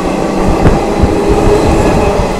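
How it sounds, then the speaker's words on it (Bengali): A passenger train on the Amritsar to Haridwar route pulling into a station, a continuous loud rumble of wheels and carriages with faint rhythmic clatter and no voices. "ট্রেন আসছে"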